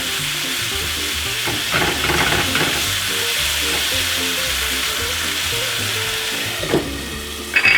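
Peppers and onions sizzle steadily in a hot pan for pork fried rice, a continuous close frying hiss with occasional stirring scrapes, no talking.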